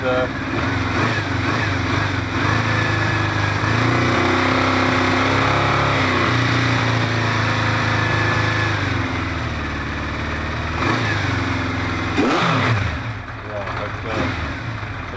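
A 1973 Honda CB500 four-cylinder motorcycle engine, just re-commissioned with reassembled carburetors, runs steadily at a close, loud, even idle throughout, with a brief blip of revs near the end.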